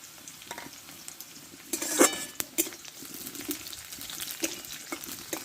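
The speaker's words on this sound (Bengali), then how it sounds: "রসুন পেঁয়াজ লঙ্কাটা একটু ভালো করে ভেজে নেব" Garlic, onion and green chili fry in a pan with a soft, steady sizzle, broken by a few sharp clinks and scrapes of stirring near the middle; no one speaks.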